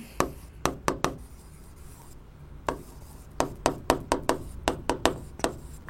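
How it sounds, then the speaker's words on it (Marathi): Chalk or marker strokes on a board during a physics lecture come as sharp, rapid taps and scrapes in quick bursts, with a brief pause between runs, close and clear without speech. "तर मी इथं लिहितो"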